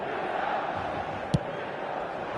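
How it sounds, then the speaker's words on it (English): Steady crowd noise fills the San Siro stadium during a football video game match, a dense continuous roar with one brief sharp thump near the middle. "Red and black wherever you turn, the San Siro is buzzing."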